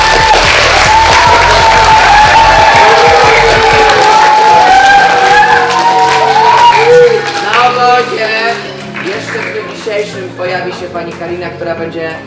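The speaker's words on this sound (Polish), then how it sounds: "ale brawa! brawa" Applause and cheering from a crowd of campers greet the coaches at a summer judo camp, loud and sustained, then thinning out toward the end, with voices talking and calling over it.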